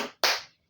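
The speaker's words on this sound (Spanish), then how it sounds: "Aplauso para mi manita." Brief applause at a small home celebration: a sharp burst of close clapping lasting under a second, heard alone.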